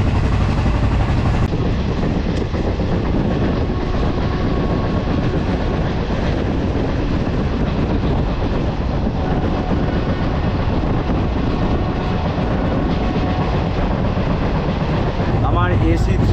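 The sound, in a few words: Doon Express passenger train running on the tracks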